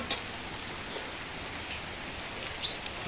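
Steady rain falls on a rural homestead, a soft even hiss of drops throughout with a couple of brief brighter spatters, quiet and with no voices.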